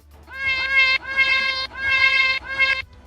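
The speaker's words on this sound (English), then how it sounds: "Lyricat often gather together in groups and meow in harmony." A Lyricat from a video game gives four harmonious, musical meows in quick succession, each a sustained tonal call, loud and clear with no talk.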